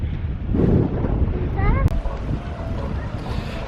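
Strong wind on Anglesey buffets the microphone in a steady low roar, with a voice briefly audible underneath.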